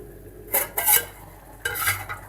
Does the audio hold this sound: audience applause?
no